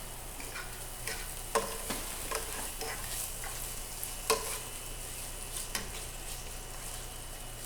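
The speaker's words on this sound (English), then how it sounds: "I'll give that a stir" Onion and garlic soften over low heat in a pan while a spoon stirs them, a quiet even sizzle with a few sharp clicks and scrapes, no voice.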